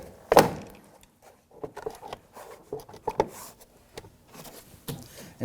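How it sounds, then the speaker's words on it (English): Plastic push pins popping loose as a front door panel is pried off a 2008-2011 Ford Focus, scattered sharp snaps and dull thunks with faint rustling between them, close and without talk. "just gently tug outward, separating the plastic push pins around the perimeter"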